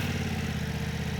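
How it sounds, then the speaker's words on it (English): A Ducati Multistrada motorcycle engine idles through a tiny muffler, a steady low, throbbing exhaust pulse with fine rapid beats, close and even for just over a second. "To keep the weight to 573 pounds, Ducati fitted this tiny clarinet of a muffler"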